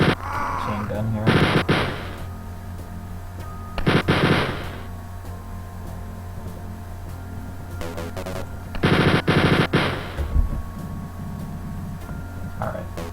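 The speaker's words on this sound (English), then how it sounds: "I'm gonna switch to chain gun here." Chain gun in the Wolfenstein 3D video game, firing in several loud rapid bursts of a second or so each, separated by quieter gaps with game background hum and someone talking at moments.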